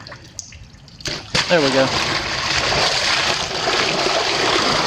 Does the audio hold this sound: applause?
no